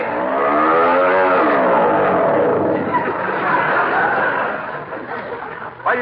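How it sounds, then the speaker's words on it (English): A loud motor engine drones and revs close by, its rough harmonic roar filling the clip before easing slightly near the end. "This engine is too noisy."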